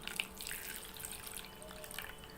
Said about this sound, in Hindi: इसके बाद अब हम इसके अंदर डाल देंगे गर्म पानी।